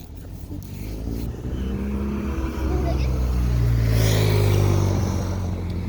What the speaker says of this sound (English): Motorcycle scared it.